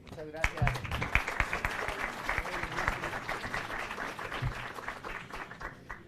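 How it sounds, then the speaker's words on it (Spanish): A seated audience at a book presentation in Mexico applauds a departing senator, a warm round of clapping that builds and holds steady, with a voice speaking faintly at the start. "Lo despedimos con un cálido aplauso."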